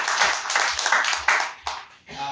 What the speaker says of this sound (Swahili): Patia Yesu makofi mazuri kwa hiyo.